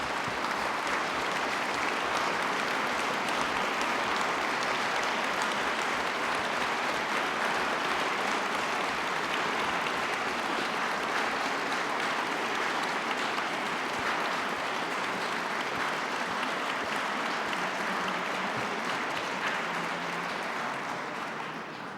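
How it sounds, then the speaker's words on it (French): Long, steady applause from an audience under the dome of the Academy during a formal ceremony, a dense even roar of many hands kept up evenly for more than twenty seconds with no voices. "Les précités se lèvent et nous les applaudissons."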